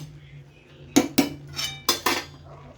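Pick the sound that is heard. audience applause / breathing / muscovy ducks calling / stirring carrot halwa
stirring carrot halwa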